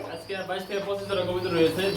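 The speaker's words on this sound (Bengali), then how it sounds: "ফরাদ ভাই কত জোড়া কবুতর আছে ভাই" Pigeons coo close by in low, rolling, throaty calls, with voices murmuring in the background.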